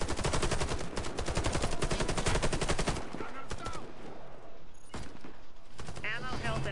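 Rapid bursts of FY-47 assault rifle gunfire from the shooter game Warface fill the first three seconds loud and dense, then scattered shots, clanks and game effects continue through the rest amid background game noise.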